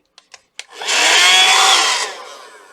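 A cheap $7 mini vacuum cleaner switched to blower mode gives a few sharp clicks, then a steady, close, airy whoosh of rushing air that holds for over a second before tapering off.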